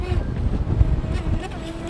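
A cheap little brushless RC boat runs into the wind on open water, giving a steady close motor buzz under heavy gusting wind noise across the short stretch.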